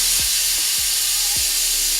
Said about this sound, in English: You're gonna hear a lot of steam, so let's listen, and when that steam stops we can open it.